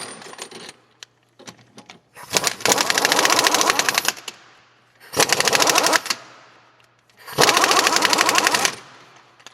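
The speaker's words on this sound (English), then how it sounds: "And we're going to run it down with the impact gun." Impact gun drives an M14 x 1.5 thread die down a tie rod on a 2008-2020 Dodge Grand Caravan, three loud, rapid hammering bursts of about two seconds each, separated by short pauses.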